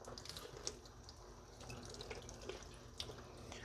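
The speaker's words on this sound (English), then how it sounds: "We're just going to rinse the meat off." Tap water running steadily into a sink while capicola meat is rinsed under it, a faint continuous splashing stream with occasional soft drips and clinks.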